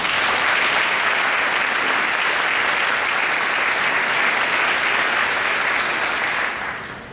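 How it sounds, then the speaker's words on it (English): A conference audience at a closing session claps for the teams, a thick, loud, continuous round of applause that holds steady, then tapers and fades away in the final moments. "give all the teams a quick round of applause"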